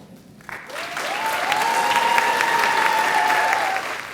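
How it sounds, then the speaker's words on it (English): Commencement audience at a college's inaugural graduation breaks into a sustained round of applause, rising quickly and holding steady with a few whistles or cheers riding over the clapping. "Please stand and give a round of applause for him."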